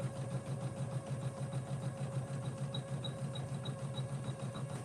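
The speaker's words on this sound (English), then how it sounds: "I'm going to let the piece stitch out in real time" An embroidery machine stitches out an appliqué design in a steady, continuous run, its rapid needle pulsing evenly and close, with a constant mechanical hum and no talk over it.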